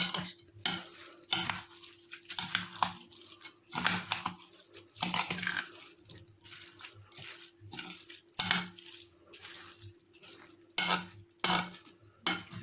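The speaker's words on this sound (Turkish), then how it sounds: "Şöyle alttan güzelce karıştıralım arkadaşlar" A pepper dolma stuffing mixture being stirred in a pan, with repeated rhythmic scrapes and wet churning strokes every second or so over a faint sizzle, close up and steady.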